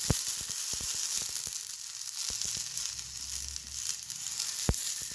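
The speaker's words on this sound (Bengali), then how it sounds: "তেল দিয়ে এই টমেটোগুলো সব বসিয়ে দেবো।" Round tomato slices frying in a little oil on a tawa, a steady high sizzle with small taps and clicks as pieces are set down, plus a low hum midway.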